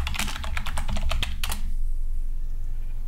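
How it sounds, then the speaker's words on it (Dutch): Rapid clicking keystrokes on a computer keyboard during a Minecraft building session, a quick irregular burst of close taps that stops after about a second and a half, leaving a low background hum. "Ik dacht dat je Smite ging typen"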